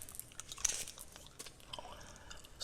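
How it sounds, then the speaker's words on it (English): Gum chewing close to the mic inside a car, soft wet smacks and clicks in an irregular rhythm, quiet and intimate with no talking. "let's get some fun gum up in here"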